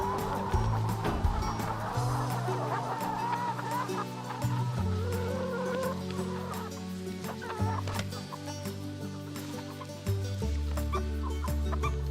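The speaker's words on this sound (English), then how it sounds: "the chickens following the farmer" A flock of farm chickens in Uddeholm, Hagfors, Värmland, Sweden, follows the farmer to feed, clucking steadily and continuously over a low, constant hum, with no speech.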